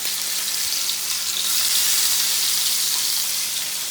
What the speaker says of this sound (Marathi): आणि इकडं आता ही मच्छी फ्राय करतो.